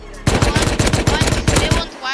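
Rapid automatic gunfire from the video game Rust, a loud burst of about a dozen quick shots lasting under two seconds, close and dominant with no talk over it.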